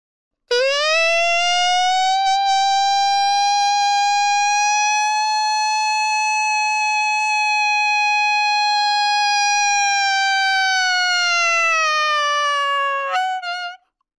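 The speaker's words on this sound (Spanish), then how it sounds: "Continuamos con una técnica más, que es la técnica del sonido de sirena. Utilizamos la boquilla de saxo tenor en este caso" A tenor saxophone mouthpiece played on its own produces a loud, sustained siren-like tone that bends upward at the start, holds for about twelve seconds, and ends with a brief warble before cutting off.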